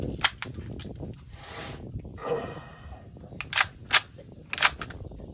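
Several 9mm shots fired from a PTR firearm at an outdoor range, sharp cracks spaced irregularly, with faint talk underneath.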